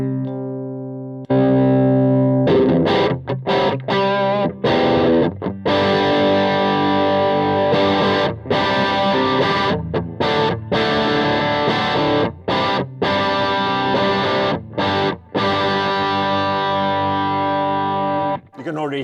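A distorted electric guitar plays through a Mesa/Boogie mini amp on a low-gain second channel, chords and riffs ringing loud and close with brief pauses between phrases.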